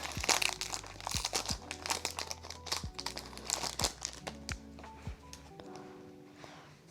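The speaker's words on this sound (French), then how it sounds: "Prendre mon petit booster, je vais l'ouvrir." A Pokémon booster pack wrapper is torn open and handled, producing close, continuous crinkling and crackling of foil plastic with sharp crunches throughout.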